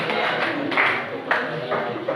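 A classroom audience applauds after a group presentation at a teacher certification session; dense, steady clapping fills the room for a couple of seconds at moderate loudness, with a few sharper claps standing out.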